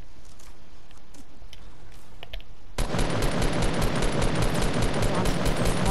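Dense, rapid automatic gunfire from the video game Fortnite erupts partway through and rattles on loudly without pause, after quieter scattered shots and game sounds, with a player's voice talking over it.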